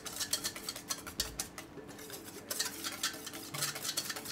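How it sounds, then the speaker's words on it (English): Quick rhythmic whisking in a bowl, blending ingredients for a Moroccan whitebait dish, with steady clattering strokes and small scrapes that pause briefly midway, close and fairly soft. "I'm going to take a whisk."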